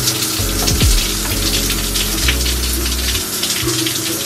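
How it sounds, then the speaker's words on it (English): A shower runs with loud, steady rushing water, close and continuous, with a low hum and a few shifting tones underneath. "I just take a regular shower"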